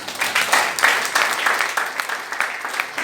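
A church congregation applauding steadily for Jesus, dense close clapping that holds at an even level throughout, with a few voices mixed into the crowd.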